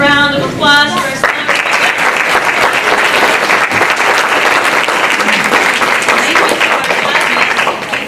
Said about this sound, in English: super round of applause for our